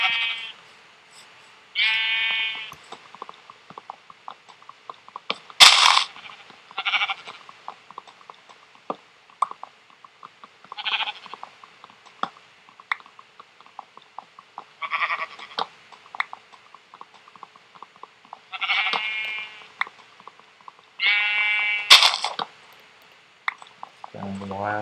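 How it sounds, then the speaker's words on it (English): Repeated blocky sheep bleats from Minecraft in a savanna area, several separate calls spread across the span at moderate loudness, with scattered soft game clicks and footsteps between them. "Got some sheep."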